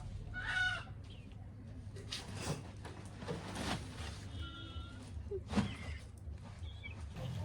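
A chicken clucks in a room, short bursts of clucking near the start and middle with a few squawks, over steady low background noise and room sounds.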